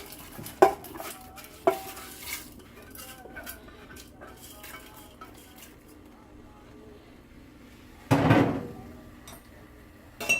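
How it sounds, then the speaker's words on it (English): Washed lentils are tipped into a pressure cooker in a home kitchen while making dal: a few light clinks and knocks of utensils, then a short, dense rush of grains near the end. "I already washed my lentils properly, so now I'm going to add into pressure cooker."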